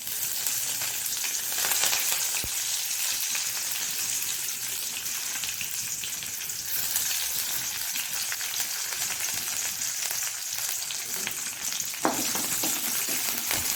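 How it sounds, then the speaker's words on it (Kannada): Crushed garlic and curry leaves, with mustard seeds, fry in hot oil for a sprouted methi moong sukka, giving a steady, close sizzle throughout with a brief clink near the end. "ಸ್ವಲ್ಪ ಜಜ್ಜಿಟ್ಟ ಬೆಳ್ಳುಳ್ಳಿ, ಕರಿಬೇವಿನ ಸೊಪ್ಪು ಸ್ವಲ್ಪ ಹಾಕೊಳ್ಳೋಣ."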